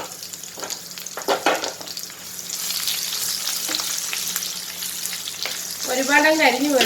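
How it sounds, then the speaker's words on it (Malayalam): Dried curd chillies hitting hot coconut oil, a loud steady close sizzle that swells as they go in, with brief stirring clatter and a short spoken remark near the start. "എണ്ണ നല്ലപോലെ ചൂടായിട്ടുണ്ട്. നമുക്ക് മുളക് ഇട്ട് കൊടുക്കാം"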